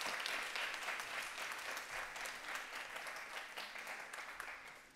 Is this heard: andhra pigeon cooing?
no